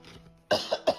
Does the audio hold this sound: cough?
yes